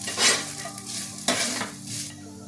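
Grated coconut sizzles in hot ghee for a green dal sweet payasam, with loud, close, steady frying hiss broken by two scraping stirs of a spoon.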